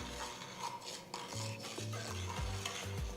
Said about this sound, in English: Roast the suji till it's nice golden in color